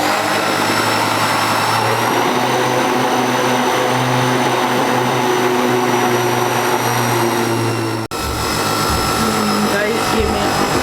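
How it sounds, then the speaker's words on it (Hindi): An electric kitchen grinder runs steadily while churning cream into homemade butter, producing a loud, continuous motor whine with a brief dip near the end. Someone talks over the noise. "ग्राइंडर का शोर है बट इट्स ओके"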